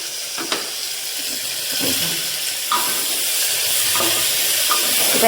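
Onions frying in a single pot for egg biryani give a continuous broad sizzle, with a few occasional clinks and scrapes of a spoon against the pot, close and fairly loud.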